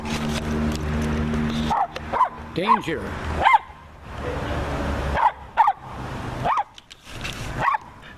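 A dog barks in a series of sharp yips and barks spread irregularly across the stretch, loud and close, mixed with a person speaking briefly.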